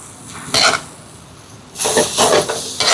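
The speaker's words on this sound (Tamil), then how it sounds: "இந்த மாதிரி அடியில் இருந்து எடுத்து நல்லா கலந்து விடுவோம்." Prawn noodles stirred and tossed up from the bottom of a pan, a spatula scraping metal in two clattering bursts over a low sizzle, close and fairly loud.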